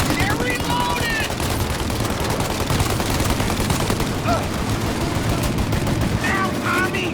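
Sustained gunfire from a shootout in the video game Mafia: Definitive Edition, dense overlapping shots and bursts filling the whole stretch, with shouted voices rising over the battle at moments.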